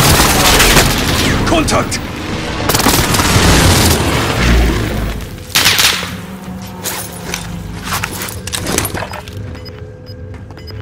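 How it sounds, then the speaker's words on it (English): Enemy precision airstrike in Call of Duty Warzone Rebirth lands as a run of heavy booms and blasts over several seconds, mixed with scattered gunfire-like pops, while a voice speaks briefly. "Enemy precision airstrike."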